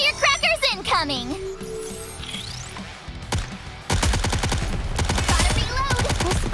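In the video game Goddess of Victory: Nikke, rapid crackling bursts of firecrackers erupt after a busy mix of synthetic effects and chimes, loud and dense for the final few seconds.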